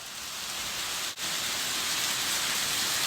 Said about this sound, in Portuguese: É chuva, papai.